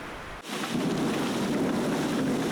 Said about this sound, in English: Jehovah hurled a strong wind and a violent storm